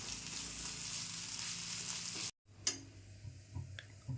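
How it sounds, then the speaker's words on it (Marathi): Ginger garlic paste frying in a pan while stuffed capsicum is made, a steady close sizzle with faint ticking, briefly cut to silence, then quieter sizzling with light stirring clicks. "ती पेस्ट पण चांगली भाजून घ्यायची."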